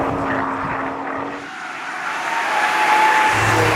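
Rear-wheel-drive BMW M140i hot hatch on a race track, its engine roaring steadily with a rising, strained note as the tyres slide through a skid, loud and close with no talking.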